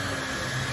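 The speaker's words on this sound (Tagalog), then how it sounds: "So, this is a self-developed brushless motor." A hair blower with a self-developed brushless motor runs steadily as a loud, even, close whirring rush of air, alone.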